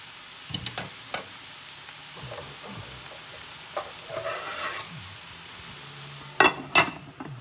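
A little water splashes into a hot pan, which is then covered with a lid. Sharp sizzling bursts mix with light clatter and stirring, loudest near the end, with no voices.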